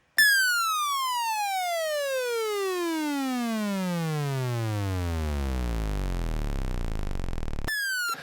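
A synthesizer riser modulation sweep runs in reverse, a loud harmonic-rich tone gliding steadily downward in pitch over several seconds, then restarting high near the end.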